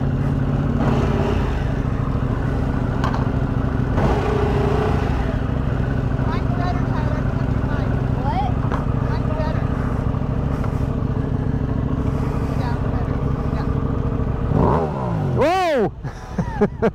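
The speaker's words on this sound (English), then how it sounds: "He wants to rev yours, Gary." Motorcycle engine, a BMW M1000R or KTM 890 Duke R, rumbling steadily with voices talking over it, then a sharp rising rev near the end.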